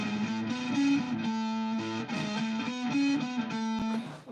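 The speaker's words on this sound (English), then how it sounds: "I'm gonna try a different kind of distortion." Electric guitar played through a distortion pedal, a thick, buzzy, sustained tone with strummed chords and shifting notes ringing continuously, ending on a sharp muted stop, with no talking.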